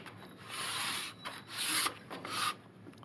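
Threaded metal retaining ring of a Nechville banjo being screwed in by hand, giving a close, soft rubbing rasp in several short turning strokes.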